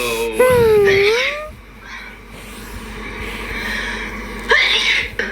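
One loud, close sneeze bursts out near the start, followed by quieter indoor chatter and a brief noisy swell toward the end.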